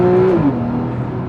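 A Porsche engine, Cayman or 911, revs in first gear, a loud, close, smooth drone that holds steady pitch and then shifts slightly as the revs change, all within about a second.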